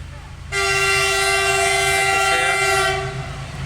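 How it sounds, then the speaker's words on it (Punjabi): A passenger train rushes past a level crossing in rural Punjab, its loud sustained horn blaring for a few seconds over rumbling wheels before fading, with no speech. "ਲਓ ਵੀ ਵੇਟ ਕਰਦੇ ਕਰਦੇ ਆ ਗਈ ਰੇਲ ਗੱਡੀ"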